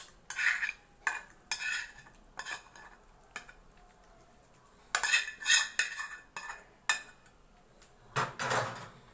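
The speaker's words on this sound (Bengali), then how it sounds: "আমি এবারে এটা নামিয়ে নেব পাত্রের মধ্যে আমি ঢেলে দিচ্ছি" Thick kalakand sweet mixture scraped and poured from a cooking pan into a serving dish, with spoon scrapes and clinks against metal in short separate bursts, fairly close and no talking.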